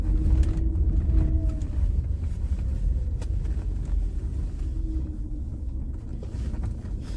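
Dump truck driving into a construction site where an excavator is working, a low, steady engine rumble with wind buffeting and some faint tonal whine drifting through.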